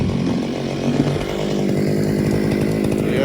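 A small 43cc two-stroke gas engine on a Vevor 6-in-1 combo yard tool runs warm, giving a loud, close, steady buzzing drone with no pauses and no talk.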